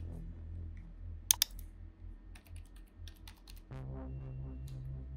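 A computer keyboard is tapped in a few short, sparse bursts of light key clicks, close and quiet over soft background music, with no speech.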